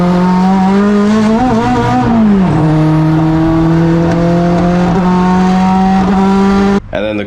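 A race car engine with a worsening misfire drones loudly and steadily on track, its pitch dipping briefly before holding a sustained high whine, then cutting off abruptly near the end.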